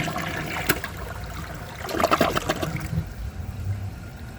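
A Project Source Pro dual-flush toilet, a 2023 model, flushes a washcloth: a close, rushing gush of water that swells around two seconds, then drains into trickling and gurgling, with no talk.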